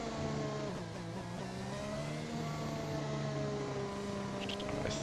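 An F1 race car pushes through a flying lap at the Brazilian Grand Prix, its engine holding a continuous high-pitched whine whose rising and falling pitch follows the gear changes, steady and fairly near with no voices.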